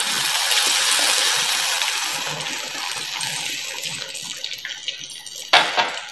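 Water pours steadily into a cooking pot in a bright, continuous splash that gradually quiets, ending with a couple of metallic clinks.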